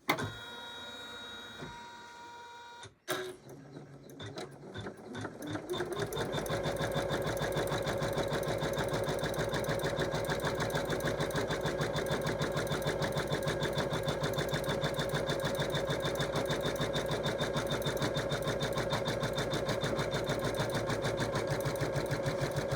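A Janome 550E embroidery machine stitches an outline, starting with a few clicks and a brief pause, then ramping up into a fast, steady mechanical whir and rapid needle chatter that runs on without a break, close and clear.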